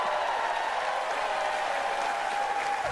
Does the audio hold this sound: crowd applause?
yes